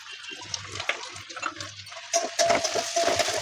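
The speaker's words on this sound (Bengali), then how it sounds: "একটু জল দিয়ে দিই মশলাটা" Water splashes into a hot pan of frying spices (dried chilli, cumin powder, salt), a hissing, spattering rush that swells loudly about two seconds in and carries on to the end.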